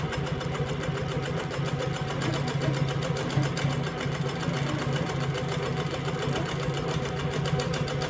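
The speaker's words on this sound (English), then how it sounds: "I would show how smoothly it does stitch with this thread" Baby Lock Regalia sewing machine stitching with glitter thread at low upper tension, a steady fast motor whir and needle rhythm running continuously and close up, with no voices.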